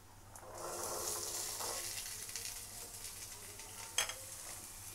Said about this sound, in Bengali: এবার ওর মধ্যে টুকরো করে রাখা আলুগুলো দিয়ে দেব